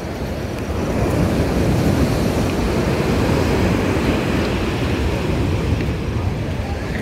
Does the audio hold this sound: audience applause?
no